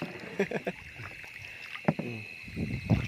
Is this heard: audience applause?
no